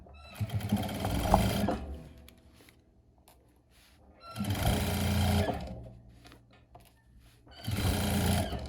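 A sewing machine stitches scrap fabric into a potholder at a 3 mm stitch length, three loud bursts of rapid whirring separated by pauses, close to the listener.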